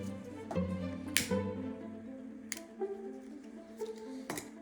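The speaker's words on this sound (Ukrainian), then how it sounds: "Ріжу ножицями і теж запаюю край." Scissors snip through zipper tape during a sewing project for a large XL waist bag, giving several sharp, brief cuts with a faint background hum and no talk.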